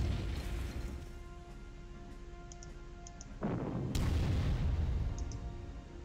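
Artillery fire in a WWII strategy game set at the Stalingrad docks, two heavy booms, one at mid-clip and a louder one soon after, over a constant low battlefield rumble with faint distant pops.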